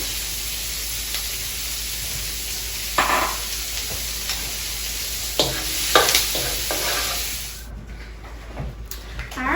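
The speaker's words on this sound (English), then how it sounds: "We got to get some sauteing going on really quick." Vegetables for a stir fry saute in a hot pan with a continuous loud sizzle. Scraping and stirring clatters cut in now and then.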